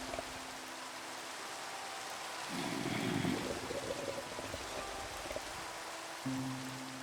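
Rain falling in the Minecraft video game during a fishing session, a steady soft hiss throughout with a brief louder swell partway through and some quiet game tones underneath.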